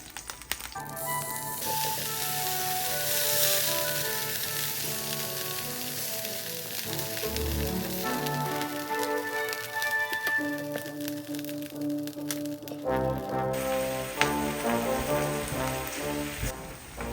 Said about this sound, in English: I'm going to add some more oil, another tablespoon, and continue to cook your beef.